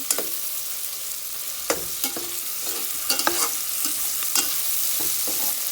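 Chicken pieces browning in a hot pan for chicken curry, with a steady, close sizzle and several sharp scrapes and clinks of stirring spread through it, and no talking.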